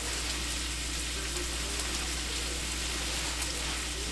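Garlic and onion sauté in butter with a steady, soft sizzle and crackle, even and continuous without pauses, faint and close with no voices.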